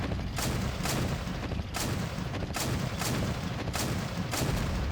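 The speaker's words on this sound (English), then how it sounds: "I'm going to try and get up closer and shoot a Tau missile at him." Missile fire and explosions in the Men of War: Assault Squad 2 war game, a loud run of booming blasts and gunfire roughly every second over a constant rumbling battle din, with no voices.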